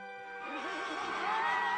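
A horse whinnies in a long wavering neigh that rises and holds, loud and close, with no talk over it.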